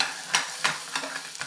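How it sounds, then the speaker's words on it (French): Butternut squash with spices fries in a pan, a soft steady sizzle broken by several brief scraping stirs at irregular intervals. The sound is close and fairly quiet, with no talking. "ça tournicote, ça saute dans la poêle, ça colore, ça grésille, ça fond"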